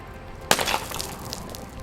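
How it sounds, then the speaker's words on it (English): A concrete block shatters during an impact strength test with one sharp loud crack, followed by a short spray of crumbling debris and scattered small bits settling over about a second. "The concrete block shatters,"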